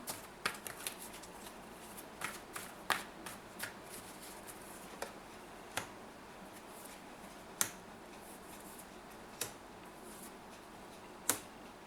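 Tarot cards being shuffled and drawn: soft card riffles and a string of crisp, isolated flicks and snaps spaced a second or two apart, close and quiet.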